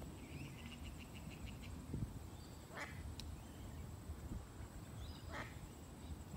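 A duck quacks in short bursts outdoors while a fox hunts it, fairly faint and distant against steady insect and ambient background noise, with a few separate calls spread across the stretch.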